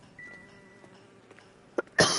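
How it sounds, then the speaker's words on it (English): A single sharp cough bursts into a close microphone near the end, preceded by a smaller throat sound, against an otherwise quiet room. "I do apologize for my coughing into the mic."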